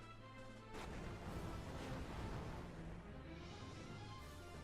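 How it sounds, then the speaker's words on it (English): A monster's fire breath attack in Final Fantasy III erupts as a loud, roaring burst of noise that sustains for several seconds, a dense rushing blast with no talking over it. "Yep, that's fire breath."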